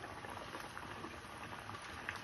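Rings of kodubale dough fry in heated oil, a steady soft sizzling and bubbling hiss that stays quiet and continuous throughout.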